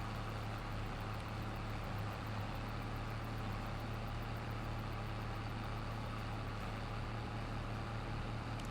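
Tractor engine in Farming Simulator, a steady continuous drone running at constant load for a hay and straw job, loud and unbroken with no talk.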